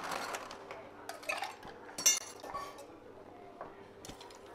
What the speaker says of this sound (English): We are going to stir it down for extra dilution.